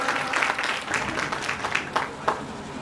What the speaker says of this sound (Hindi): मिस अदिति, इनका जोरदार तालियों के साथ स्वागत करना चाहूंगा।